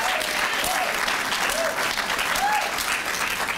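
Audience applause at the Vermont Arts Council Governor's Arts Awards ceremony, a steady dense patter of clapping filling the room throughout, with faint voices mixed in.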